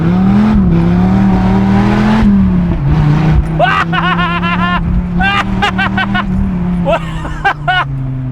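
A Dodge Viper engine revs hard and accelerates, a loud deep roar climbing through rapid aggressive gear shifts with sharp rising bursts in quick succession.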